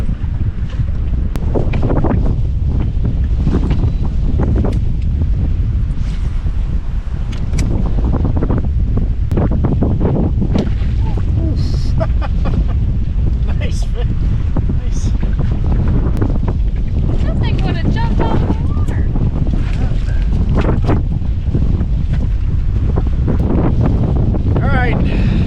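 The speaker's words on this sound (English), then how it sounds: "We've got super windy conditions right now" Strong gusting wind batters the microphone on a lake during stormy weather while fishing for pike from a boat, a dense, loud roar with water slapping beneath it throughout.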